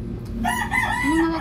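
A rooster crows once, a short rising-and-falling call fairly close, cut off after about a second.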